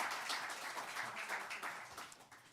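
Faint, distant crowd applause at a poetry night, with steady, dense clapping sustained for a few seconds.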